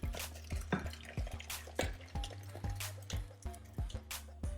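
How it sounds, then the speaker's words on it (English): Cream of mushroom soup poured from a pot into a container gives repeated thick, wet plops and drips in an irregular rhythm, close up and with no voices. "pour it out into a container that we can serve it up and let it cool a little bit"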